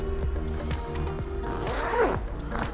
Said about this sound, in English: this is the front zipper compartment.